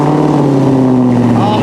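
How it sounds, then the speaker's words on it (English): A loud, steady supercar engine drone on a cold start with a new exhaust, a deep low hum, running evenly and close without revving or pauses. "Let's listen to a cold start with the new exhaust."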